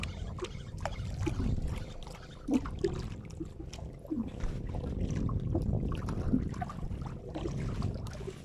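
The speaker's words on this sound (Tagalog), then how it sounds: "may bangka na lumapit sa ating mga master" Water sloshes and laps with faint knocks against a hull as a small boat draws near during a jigging fishing trip, no voices, quiet and close.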